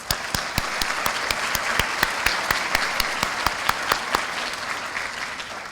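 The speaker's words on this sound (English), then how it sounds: "Let's please give her a round of applause." An audience applauds at a 2022 community foundation scholarship recognition event, with steady, fairly close clapping and sharp individual claps sounding throughout, sustained without talk.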